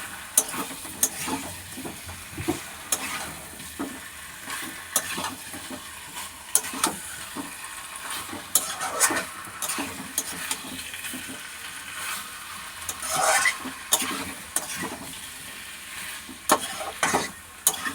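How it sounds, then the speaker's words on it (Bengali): Chicken pieces are sautéed with spices in oil for a thin Bengali curry, a soft continuous sizzle broken by repeated scraping and clicking stirring strokes at an uneven pace, with no one talking. "মাংসটা কষা হচ্ছে।"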